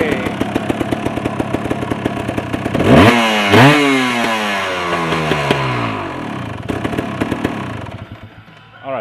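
Kawasaki KDX dirt bike engine, warmed up and running a bit smoky, blipped through two sharp revs that fall back to a close, steady idle with no talk.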